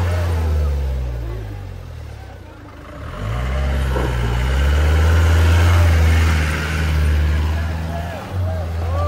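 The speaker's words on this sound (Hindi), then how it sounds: "सर्व गाड्या फसल्या आहेत आणि आता टाटा सुमो निघणार आहे" A Tata Sumo fitted with snow chains pulls away on an icy, snow-covered road, its engine idling then straining and rising in a loud, rumbling drone as speech carries over the top.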